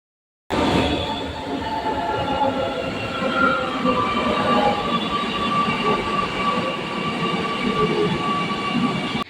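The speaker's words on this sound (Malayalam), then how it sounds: "പ്ലാറ്റ്ഫോം 2 നമുക്ക് പോവേണ്ട മെട്രോ വരിക." A metro train rumbles steadily alongside a platform, with a continuous roar, faint whining tones and some clatter throughout.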